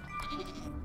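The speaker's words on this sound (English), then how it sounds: "Oh, goat? Where goat? Hello? I hear you." A goat bleats in Minecraft, a short, faint wavering cry over background game ambience with no talking.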